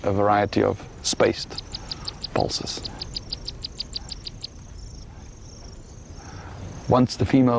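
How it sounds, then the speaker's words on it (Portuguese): Frogs call in the wild, one giving a short trill and another an intermittent row of evenly spaced tic-tic clicks, faint under a narrator's voice. "A outra emite um som mais intermitente com um tic-tic-tic."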